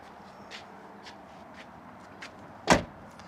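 A rear door on a Nissan Pathfinder slams shut once with a single loud, close thud, preceded by faint shuffling handling noises around the door and handle.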